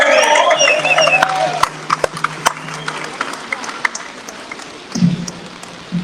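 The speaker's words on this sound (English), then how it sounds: "let's give Greg a massive round of applause" A crowd at a Rural Action Movement assembly at Parliament House applauds its first speaker, clapping in the opening seconds and then thinning to scattered claps as a voice comes in near the end.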